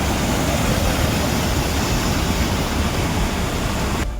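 Floodwater after heavy rain surges across National Highway 552 where a bridge has broken, making a loud, continuous broadband roar like a waterfall that holds steady throughout.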